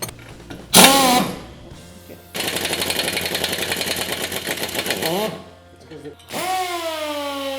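A pneumatic air tool on a 1/4 inch airline during disassembly of a Polaris RZR rear end, rattling in a rapid hammering burst for several seconds between short bursts of voices and a whistle-like tone.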